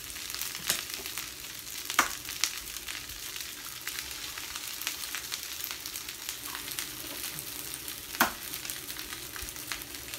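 Eggs fry in a stir fry pan with a constant close sizzle, broken by a couple of sharper scrapes and pops as the food is stirred, with no voices.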